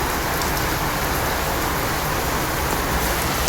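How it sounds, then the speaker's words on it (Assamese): Heavy rain pours steadily, a dense, loud, unbroken hiss of drops on surfaces close by, with a faint low rumble beneath and no voices. "এই চাওক পূৰা বৰষুণ দি আছে একেবাৰে"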